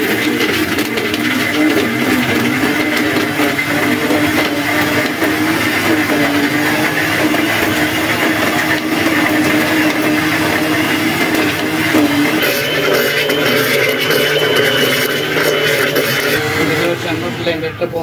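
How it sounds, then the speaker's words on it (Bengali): An electric blender whirs steadily as it mixes a banana coffee shake with milk, a loud, continuous motor drone that holds for most of the stretch and tapers near the end, with a voice speaking over it. "এখন হচ্ছে ব্লেন্ড করব।"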